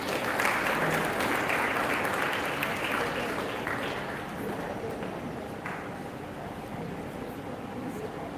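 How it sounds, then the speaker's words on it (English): Audience applause for the chairman at an awards prize-distribution ceremony, a steady, dense clapping from a large crowd that continues evenly throughout without a break. "Please give a round of applause"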